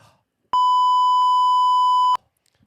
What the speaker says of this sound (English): Be ready to beep.